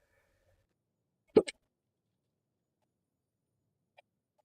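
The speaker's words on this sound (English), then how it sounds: "Why do I suddenly have hiccups?" A person indoors hiccups twice in quick succession, close and fairly loud in a quiet room, followed a few seconds later by a faint third hiccup.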